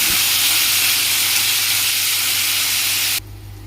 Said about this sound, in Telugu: ఆ తర్వాత కొన్ని పచ్చిమిర్చి, ఉల్లిపాయలు వేసుకొని బాగా కలుపుకోవాలి.